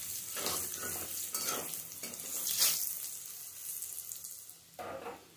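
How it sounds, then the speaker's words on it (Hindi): Salt and turmeric being stirred into hot oil in a pan, a steady sizzle with repeated scraping strokes of a spoon, close up with no talking. "इसे अच्छे से मिक्स कर लूंगी"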